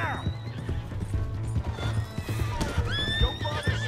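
Horse in Red Dead Redemption 2 whinnies loudly over steady hoof clip-clops and background game sound, with a second neigh near the end.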